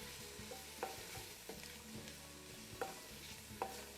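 Ground cumin and coriander stirred into an oily pot of poblano chicken posole, a spoon scraping and clinking in several distinct strokes over a soft, steady sizzle, close and fairly quiet.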